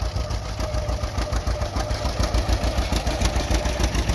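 A John Deere G tractor plowing with three bottoms in the Palouse, its engine chugging in a steady rapid rhythmic knock, loud and close throughout with no talking.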